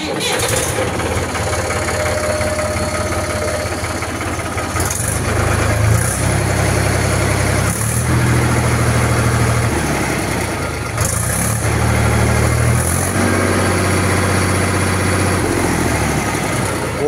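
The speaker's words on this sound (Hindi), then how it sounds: "आवाज़ भी दिखाऊंगा आपकी ट्रैक्टर की कैसी है" Mahindra 275 tractor from 2011, a cold but clean-running diesel, idles with a steady low chugging throb close by, its note shifting slightly in level every few seconds throughout.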